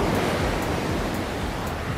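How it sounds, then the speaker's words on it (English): Ocean waves crash steadily on the shore, a continuous broad wash of surf with slight swells, fairly loud and alone without voices. "the waves crashing in the background"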